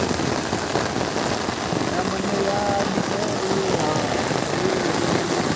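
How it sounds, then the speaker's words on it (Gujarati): Heavy rain pours steadily in the morning on the road to Bhavnath, with the vehicle stopped. A dense, loud, continuous hiss carries on unbroken for the whole stretch, and faint voices sit underneath it. "ફૂલ વરસાદ આવવા માંડ્યો છે"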